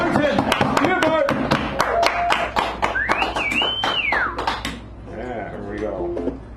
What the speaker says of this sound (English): give a round of applause for Buford Bunton